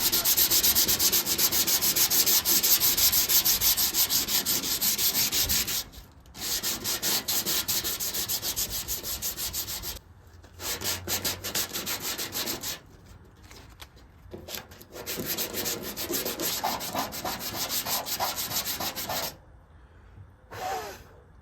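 An 85 Chevrolet Impala body being sanded by hand with sandpaper: steady, close, loud rubbing strokes broken by several brief pauses.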